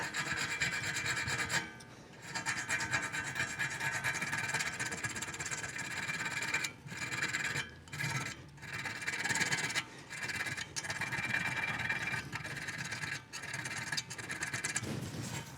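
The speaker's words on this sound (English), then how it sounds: "And then I take a little needle file. I bought a new set, and that just smooths it out." A small needle file rasps over a metal bicycle frame part in repeated back-and-forth strokes. The strokes are close and fairly quiet, with a few brief pauses between runs.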